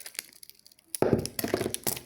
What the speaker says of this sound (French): je coupe juste le scotch